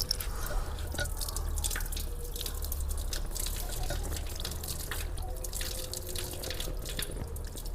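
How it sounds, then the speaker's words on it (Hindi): Water runs and drips steadily through a gas geyser assembly as it is rinsed clean, a continuous splashing, trickling flow with scattered drip impacts, fairly close and without any talk. "अभी मैं इसमें थोड़ा पानी डाल के इससे सफाई कर दूँगा"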